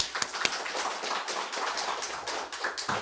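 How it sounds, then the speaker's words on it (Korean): A church congregation at a New Year's Eve service applauds together, a dense, steady wash of many hands clapping that fills the room throughout without a break. "우리 함께 감사의 박수 함께 올려드립시다"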